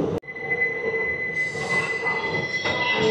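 The Bagh Express from Howrah pulls into platform 6 at Samastipur Junction, its wheels giving a loud, sustained metallic squeal over a rumbling rolling noise, with a sharp clank at the start.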